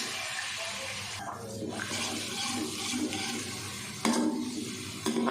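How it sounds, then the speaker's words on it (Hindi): Chopped onion sizzles in half a cup of hot ghee in a wok on a stove, a steady, fairly quiet hiss with a few soft stirring knocks and no talk. "इसमें आधा कप हम घी का डाल देंगे। गरम होने देते हैं। अब डाल देंगे प्याज।"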